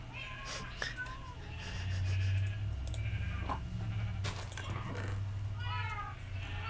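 A house cat meows repeatedly while being fed, short rising cries scattered through the clip over background room noise and a low hum, with people talking nearby.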